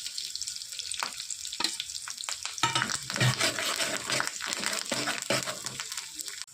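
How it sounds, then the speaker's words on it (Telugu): Green chillies and curry leaves frying in a pan, a close, crackling sizzle with several scraping stirs of a spoon, louder bursts in the middle, no voices. "పచ్చిమిర్చి కల్లేమాకు మంచిగా ఫ్రై అయినాయి"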